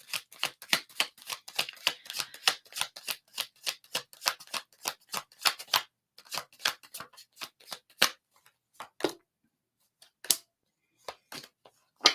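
Rapid crisp riffling and snapping of a tarot deck being shuffled, a dense run of sharp flicks that thins into scattered slaps and taps near the end.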